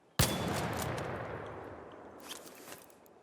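A gun fitted with a muzzle brake fires in the shooter game ARC Raiders: one sharp, loud report with a long rolling tail, then faint later pops.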